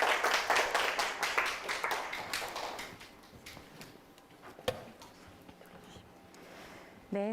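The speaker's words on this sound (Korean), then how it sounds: "박수를 모시도록 하겠습니다." An audience at a Gyeonggi teachers' global citizenship education showcase claps in a fairly close burst that fades out after a few seconds, followed by quieter room noise and a single sharp knock.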